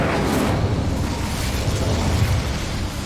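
An Incendio fire spell in Hogwarts Legacy bursts as a loud, close whooshing roar of flame that holds steady and broad for about three seconds without any voices.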